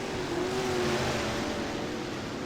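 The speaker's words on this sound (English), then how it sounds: "They have the new engine sounds inputted into the cars." Dirt late model race car engines on a racetrack in a racing game, a continuous buzzing drone of several engines at moderate distance, fairly steady in level.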